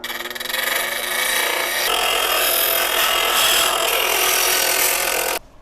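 A saw cuts through aluminum in one continuous harsh, gritty rasp, loud and close, running steadily for about five seconds before stopping abruptly.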